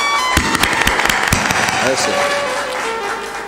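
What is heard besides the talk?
audience clapping loudly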